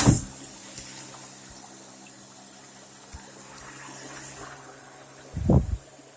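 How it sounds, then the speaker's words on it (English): Water runs from a bathtub tap into a lined trash can, a faint steady gushing fill in a bathroom with a sharp knock at the start and a louder thud near the end. "Turn the water on."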